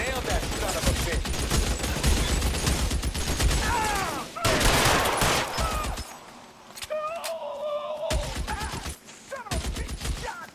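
Video game gunfire in L.A. Noire: loud rapid bursts of shots crackle in dense volleys, then break off into quieter sparse cracks amid game sounds and shouted voices.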